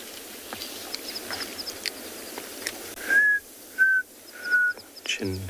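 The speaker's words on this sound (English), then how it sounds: "There's the chirping sound of a cardinal woodpecker." Three short, clear whistled chirps sound in sequence over a soft background of outdoor ambience and faint bird activity.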